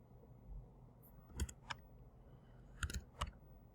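A few quiet computer keyboard keystrokes click in two short clusters against a low background hum, with no talking.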